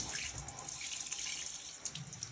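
Tap water runs steadily into a bath while a muddy child is scrubbed, a continuous close splashing hiss with faint drips, heard alone without talk.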